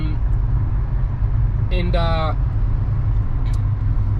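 Car cruising on the road, a steady low engine and tyre rumble filling the cabin throughout, with a brief tonal chime or beep near the middle and a light click later.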